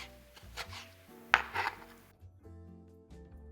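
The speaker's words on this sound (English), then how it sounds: "take half of it and cut them into small pieces like this" A knife chopping strawberries into small pieces on a board, a few close, sharp cuts and soft knocks spread unevenly over a few seconds, then quieter taps.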